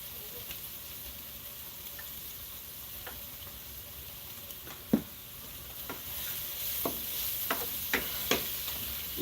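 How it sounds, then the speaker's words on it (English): Onions sauté in a pan for Spanish rice, a soft, continuous sizzle punctuated by occasional utensil taps and scrapes, fairly quiet and close. "we got our onions sauteing in here real good"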